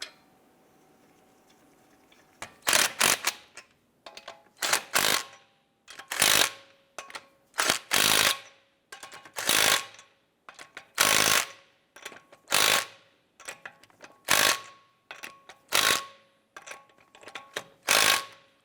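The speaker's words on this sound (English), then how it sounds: "Once we get all of our lug nuts started, we're going to go ahead and snug them down." A ratchet snugs down lug nuts on a 2012-2017 Toyota Camry wheel, giving repeated bursts of sharp clicking spaced about a second apart, close and clear against quiet surroundings.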